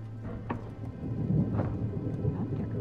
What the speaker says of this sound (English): I wasn't expecting a storm tonight.